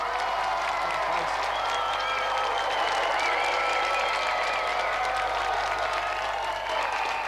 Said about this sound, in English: So let's have another round of applause for our winner, Dave Goodyear, and our gallant finalist, Pa